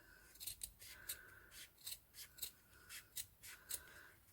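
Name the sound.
scissors cutting ribbon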